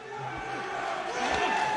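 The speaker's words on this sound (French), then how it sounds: "Il marque des points sous les acclamations du public algérien" An Algerian crowd cheers for its boxer at a military African championship bout in Algeria, a steady loud roar filling the arena with a commentator's voice over it.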